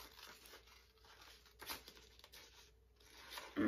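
Paper being cut to shape for a craft: quiet, close snipping and crinkling in a few short bursts, with brief pauses between cuts.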